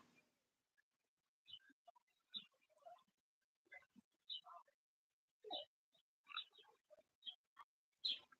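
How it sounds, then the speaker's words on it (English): Birds chirp outside an open window, a scatter of short, faint tweets and calls spread through the clip with quiet pauses between them. "you can hear the birds"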